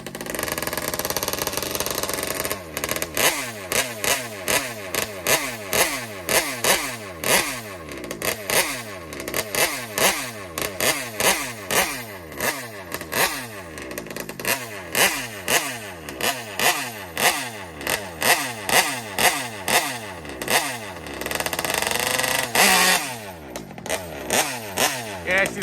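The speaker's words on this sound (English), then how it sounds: "Get some heat in the engine." A Taylor RC 35 reed nitro engine in an RC car runs loud and close, warming up with repeated sharp revving bursts over a high-pitched buzzing idle, then a brief pause before revving again.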